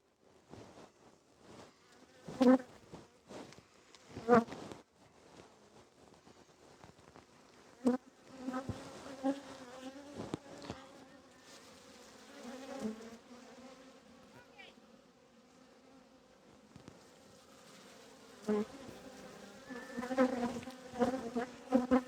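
Honey bees buzz steadily around a hive frame during a queen check, a dense droning hum with louder swells and a few sharp handling knocks.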